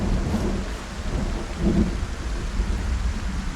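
Steady rain falling in the zombie survival game Project Zomboid, a dense continuous patter with low rumbling swells of thunder, moderately loud and unbroken, no voices over it.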